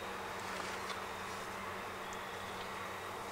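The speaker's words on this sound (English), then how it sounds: "Oh, there is a yellow jacket down in that hive." Honeybees and a yellow jacket buzz inside a beehive, a soft, continuous, even hum of many insects with no voices.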